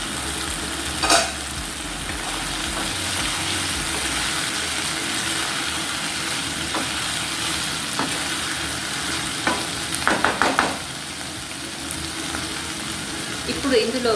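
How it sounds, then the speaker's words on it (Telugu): Drumstick masala curry fries in a covered pan with a steady close sizzle throughout, broken by a few soft clinks and light stirring knocks. "ఇప్పుడు మూత పెట్టేసి ఒక 5 నిమిషాలు ఇలాగే వేగనిద్దాం"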